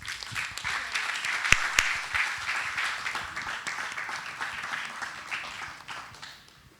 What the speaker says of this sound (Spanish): Un aplauso para ellas, por favor.